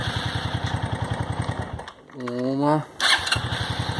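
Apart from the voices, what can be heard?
old motorcycle engine starting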